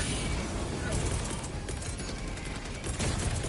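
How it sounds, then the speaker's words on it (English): Gas mortar shells firing and bursting in Helldivers 2 make a dense, continuous barrage of booming blasts and crackle, loud and close, with a voice talking over it. "The gas mortar's doing too damn much."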